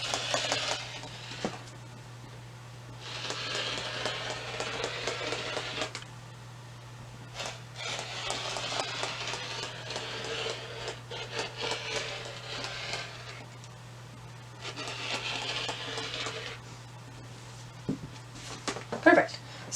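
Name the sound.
cutting out a large fabric piece for tights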